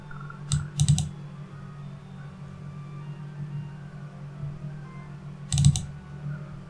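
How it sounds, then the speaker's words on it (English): A computer mouse double-clicks during 3D rendering work at a desk, with two quick pairs of sharp, close clicks near the start and another pair later over faint room hum, no talk. "By double clicking on it"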